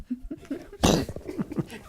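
A single loud, explosive sneeze bursts out near the middle, with murmured voices and small vocal sounds before and after it.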